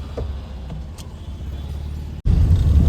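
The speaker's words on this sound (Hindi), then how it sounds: "चलिए गाड़ी को हो जाने देते हैं थोड़ा सा गर्म" A modified Tata Super Ace truck's diesel engine idles to warm up, a steady low rumble close by, with a brief cut before the drone returns slightly louder.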